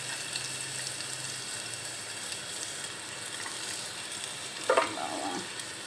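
Garlic frying in cooking oil for chicken liver adobo, a steady soft sizzle close by with a brief sharper crackle near the end, no voices.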